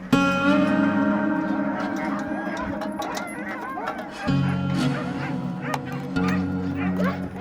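Huskies in Vesterålen, Norway, bark, yip and whimper in a busy overlapping chorus while competing for food, with occasional metallic clinks among the excited cries.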